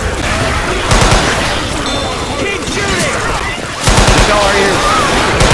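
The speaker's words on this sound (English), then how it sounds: "Keep shooting!" Rapid gunfire from a Left 4 Dead 2 zombie-shooter match on a custom city map, dense bursts running throughout with shouting players and game noise mixed in, growing louder near the end.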